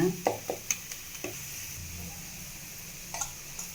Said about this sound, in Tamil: நல்லா நம்ம போட்ட மிளகாத்தூள், தனியாத்தூள், கரம் மசாலா எல்லாம் நல்லா வாசனை வர அளவுக்கு நல்லா ஃப்ரை பண்ணிக்கோங்க